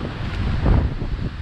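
A steady breeze buffets the microphone on a St Croix coastline on a fine day, a continuous low rumbling rush with faint surf beneath and no voices.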